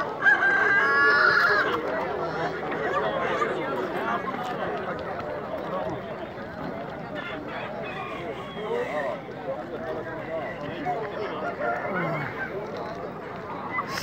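A rooster crows loudly at the start over a crowd of clucking chickens and roosters at a busy poultry market in Ganja, with constant bird chatter and background voices throughout.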